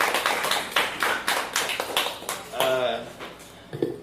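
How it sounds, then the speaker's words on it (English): Audience applause at a small gathering, a modest patter of rhythmic claps from a few people, with voices speaking over it partway through. "Let's give Amy a round of applause, everybody."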